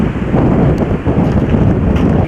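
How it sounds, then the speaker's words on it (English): Strong gusts of outdoor wind buffet the microphone at Yellowstone, a continuous loud low rumble with brief dips, no voices. "with the wind, you won't hear much but the wind"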